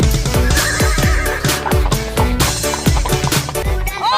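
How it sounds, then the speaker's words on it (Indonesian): A loud, shrill horse whinny repeats in quick, wavering bursts over a busy, bright background, close and sustained throughout. "Ada kuda satu teman-teman."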